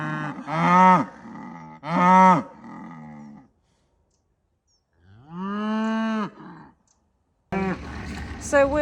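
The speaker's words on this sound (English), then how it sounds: "So we're starting winter feeding these cattle today." Cattle moo at a winter feeding on a farm on a grey day: three long, loud, drawn-out calls close by with short pauses between them, then rustling and shuffling movement at the end.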